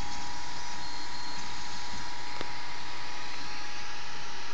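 A Makergear M2 3D printer printing in black filament, giving a steady, moderately loud mechanical whir with a faint sustained tone and one brief tick, with no talking.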